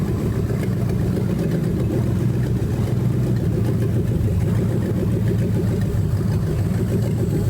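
A Mercedes-Benz V8 car engine idles with a steady, throbbing low rumble that stays constant throughout, close and without any voices.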